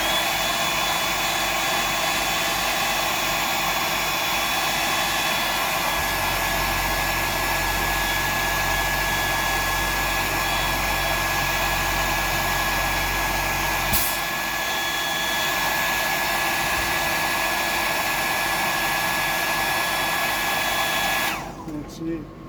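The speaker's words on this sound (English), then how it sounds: "I'll just dry that off." A hair dryer blows steadily and loudly close by for about twenty seconds, its even whooshing roar cutting off abruptly near the end.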